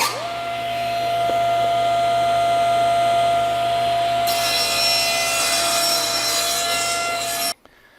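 A power saw trims the end off a wooden board in a woodworking shop, a steady loud cutting drone with a rising whine midway before it cuts off abruptly near the end.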